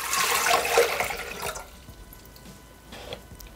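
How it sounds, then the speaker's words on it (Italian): Water pours into a Thermomix jug for a stovetop-style carrot recipe, a loud broadband gushing rush for about a second and a half that stops abruptly, leaving faint drips and quiet room tone. "Iniziamo la ricetta mettendo all'interno del boccale l'acqua."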